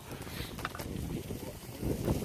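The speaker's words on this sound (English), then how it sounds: "Oh, it's windy up here." Wind gusts across a beach at Eastbourne, a low rumbling buffet against the microphone that swells and eases, louder toward the end, with no voices.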